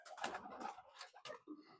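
Racing pigeons just back at the loft give soft, low cooing, faint and close, in a couple of short bursts.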